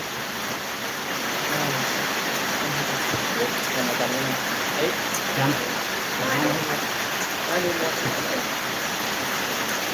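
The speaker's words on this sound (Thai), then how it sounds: "พ่อแม่พี่น้องตอนนี้ฝนตก" Steady rain falls in a continuous broadband hiss that holds at an even level throughout, with faint muffled voice-like sounds underneath.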